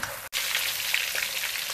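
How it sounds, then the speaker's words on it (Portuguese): Pork ribs fry in a pan with a steady, dense sizzle that runs close and loud throughout, broken only by a brief gap near the start. "E agora nós vamos deixar ela fritar"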